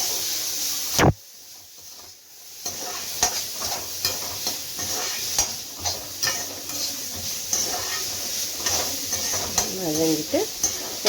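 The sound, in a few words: vegetables sautéing and being stirred in a pan for sambar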